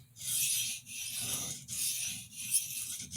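A kitchen paring knife is reprofiled with steady rasping strokes, four or five long even passes in a row, close and moderately loud with no talking.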